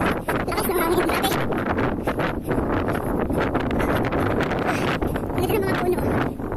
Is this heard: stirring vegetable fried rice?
no